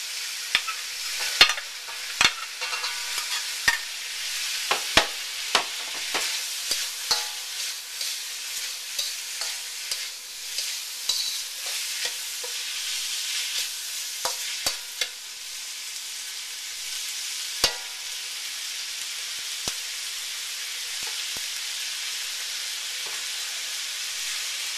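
Diced onion frying in a pan for ma po tofu with green beans, a continuous hissing sizzle punctuated by sharp spatula clacks and scraping stir strokes, close and steady throughout, with no talk.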